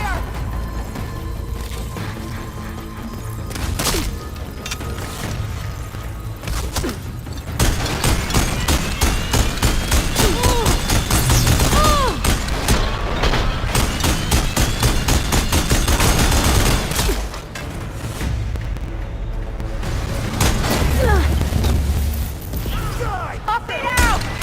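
Sustained gunfire and explosive bursts in the action game Horizon Forbidden West, dense volleys of shots and heavy thuds rolling on for over twenty seconds with short swells and lulls, mixed with battle clatter and occasional voices.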